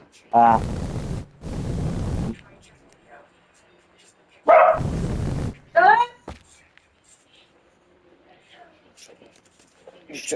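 Indoors during a home teardown, a dog lets out loud, close barks in a few bursts, interspersed with quieter yips and whines, while people talk nearby.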